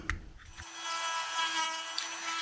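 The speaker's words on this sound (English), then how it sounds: "The Dremel attachment is a woodworking bit, and it's got a little ball on the end of its shaft." A Dremel rotary tool fitted with a ball-tipped woodworking bit grinds into wood while a DJI Pocket 2 window mount is being made, giving a steady, close, high whirring rasp with a low hum underneath.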